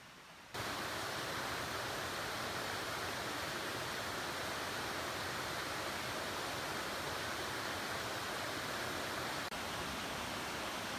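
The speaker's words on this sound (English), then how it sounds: "There's a creek running through here" Steady rushing water fills the whole stretch, a continuous broadband wash like a creek flowing close by, with no voices over it. A creek at a backcountry campsite in Great Smoky Mountains National Park.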